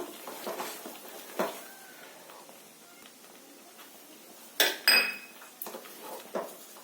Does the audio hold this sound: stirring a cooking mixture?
yes